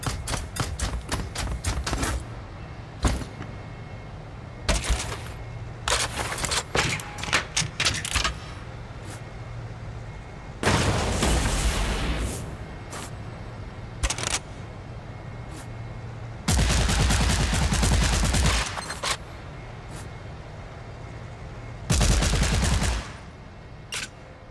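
Movement and weapon sounds in an Unreal Engine 4 game demo: rapid clicking footsteps and gear rattles interspersed with loud bursts of automatic gunfire, several sustained volleys alternating with short sharp shots.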